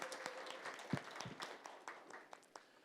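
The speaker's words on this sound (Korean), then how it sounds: "감사의 응원의 힘찬 박수로 보내드렸으면 좋겠습니다." An audience at a Korean blockchain industry policy forum applauds, quiet and somewhat distant, a steady wash of clapping with a few sharper claps standing out.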